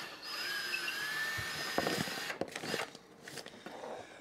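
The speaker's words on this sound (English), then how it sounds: "Can you move the drill around?" A drill whines steadily as it bores through wall insulation, then breaks into choppy, uneven grinding bursts, heard close in a quiet home interior without talk.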